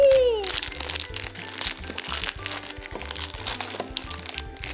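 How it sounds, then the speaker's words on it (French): Stiff plastic packaging crinkles and crunches as a Pokémon deckbox is cut open with scissors, a continuous close, busy rustle with sharp crackles throughout, no talking over it. "Le bruit insupportable du plastique."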